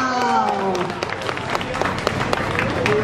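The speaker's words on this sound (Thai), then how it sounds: "โอเคครับขอเสียงปรบมือกับดูฟังกี้แฟมด้วยนะ" An audience at an art wall competition final claps for a prize-winning team, dense continuous applause with some cheering, while a voice speaks at the start.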